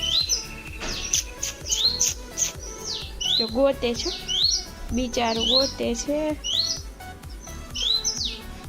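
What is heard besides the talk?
sparrow chick chirping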